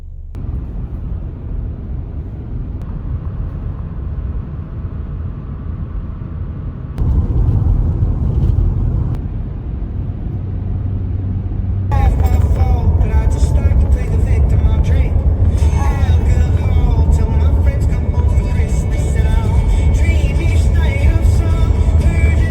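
A car sets off on a road in Canada, its engine and tyre rumble steady and fairly loud from start to finish, swelling heavier partway through, with faint music or voices mixed in toward the end.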